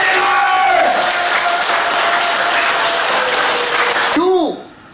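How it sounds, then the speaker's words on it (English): An audience claps with full energy at a motivational talk, a loud, dense wall of applause that stops abruptly, then a voice speaks briefly. "Clap the way you want the world to clap for you"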